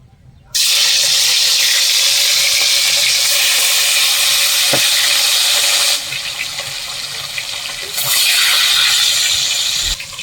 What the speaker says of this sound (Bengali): এরপর আমি মাছটা ভাজবো